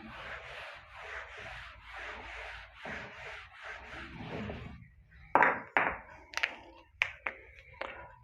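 Board being wiped clean of writing during a Class 12 maths lesson, with a run of soft rhythmic rubbing strokes, followed by sharper taps and knocks near the end, close by.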